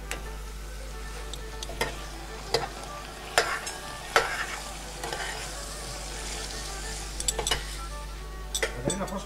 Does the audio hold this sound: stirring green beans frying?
yes